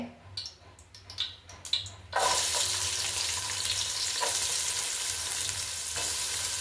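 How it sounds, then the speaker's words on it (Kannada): Chopped onions tipped into hot oil for a fish curry tempering: a few soft clatters, then a loud, steady close sizzle and crackle that fills the rest, with occasional stirring scrapes. "ಈರುಳ್ಳಿನ ಚೆನ್ನಾಗಿ ಫ್ರೈ ಮಾಡ್ಕೋಬೇಕು"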